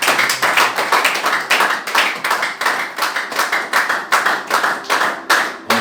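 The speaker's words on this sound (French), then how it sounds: "On peut acclamer les Seigneurs." A church congregation clapping in praise of the Lord, steady rhythmic group handclaps in a quick regular beat, loud and close, with no talking over them.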